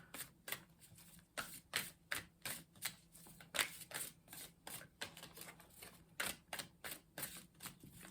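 Rapid bursts of card shuffling, a deck riffled again and again in quick crisp flurries, close and fairly quiet, with no talking.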